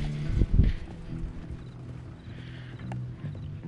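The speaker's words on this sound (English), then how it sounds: "My horse is just, it looks like it wants to gallop" A horse's hooves clatter across ground in the video game Red Dead Redemption 2, a rhythmic clip-clop of muffled thuds with a couple of louder hits near the start, heard alone at moderate distance.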